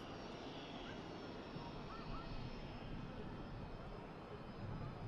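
An EasyJet airliner comes in to touch down at Manchester Airport, its engines a broad, steady roar heard from a distance with a faint background whine.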